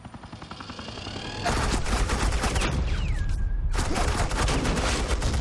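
Suppressing gunfire in Batman Telltale Season 2 opens with light rapid shots, then swells at about 1.5 seconds into a loud, dense, continuous automatic burst. A short pause follows, then the sustained barrage resumes.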